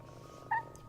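A cat purrs softly in the Powerwash Sim 2 game, a low steady rumble with a brief brighter chirp midway through the short moment.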